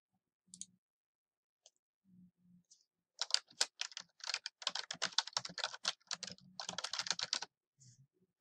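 Rapid keystrokes on a computer keyboard during presentation editing, with a few isolated clicks at first and then dense, irregular bursts of close, crisp typing for about four seconds before a final tap.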